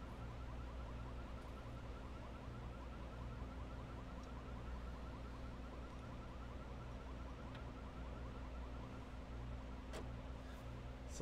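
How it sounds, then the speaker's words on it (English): A car alarm sounding in a roleplay video game, a repeating electronic warble cycling steadily and faintly over a constant low engine-like hum, with no speech. "That other alarm finally went off, or finished going off."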